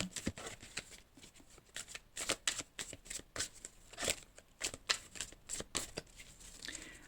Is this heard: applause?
no